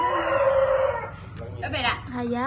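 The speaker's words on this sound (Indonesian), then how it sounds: "Ayam." A rooster crowing, a drawn-out harmonic call followed by shorter clucks and another rising crow, close and clear over a light background hum.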